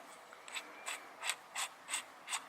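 A grimy Jacob's chuck on a rotary hammer drill is turned by hand, giving a faint, gritty ratcheting click-and-rasp repeated about six times in a steady rhythm, close and quiet.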